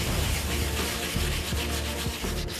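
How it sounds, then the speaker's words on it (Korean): Steady, rasping back-and-forth sanding of old reclaimed hanok timber kept wet with water, loud and close with rhythmic rubbing strokes and no voices. "일반적인 사포질로는 때가 벗겨지지 않을 경우 물로 닦아가며 사포질을 해야 한다."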